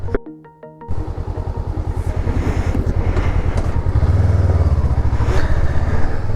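A fully loaded Honda NX 500 motorcycle starts up and pulls away, its engine revving in a steady, close, loud pulsing note that builds as it sets off.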